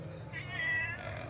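A cat meows close by, one drawn-out call rising and falling over a steady low background hum from a television repair bench.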